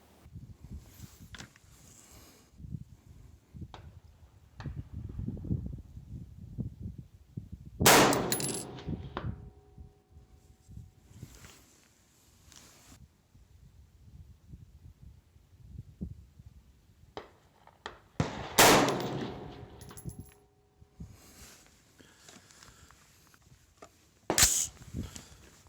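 Rifle shots ringing steel targets at 300 yards, three sharp cracks spaced several seconds apart, each followed by a bright metallic ring, with quiet rustling and handling noise between shots.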